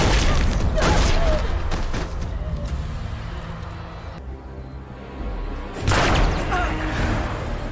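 Gunshots in the TV show Gotham, loud booming shots and impacts near the start and again toward the end, with a dramatic mix of crashing effects between.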